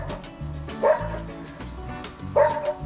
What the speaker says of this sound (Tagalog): tignan mo yung tunog ng aso namin